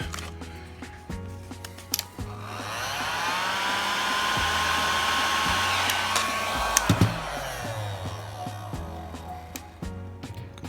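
A heat gun blows hot air in a steady, fairly loud whooshing roar that swells in around two seconds, holds for about six seconds, then drops away, with a few small clicks and handling noises around it.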